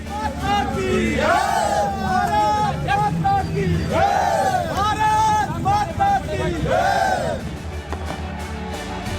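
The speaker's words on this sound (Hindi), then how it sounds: "क्रिकेट प्रेमियों के जुबान से सिर्फ भारत माता की जय की आवाज सुनाई दी।" Large crowd of cricket fans celebrating India's Champions Trophy win, voices chanting and shouting together in rhythmic rising cries, loud and close, with a dense babble of voices underneath throughout.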